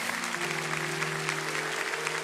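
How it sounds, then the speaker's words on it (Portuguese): A church congregation applauds, a steady wash of clapping at moderate volume over a low electrical hum, with no talking. "Pode aplaudir a Jesus."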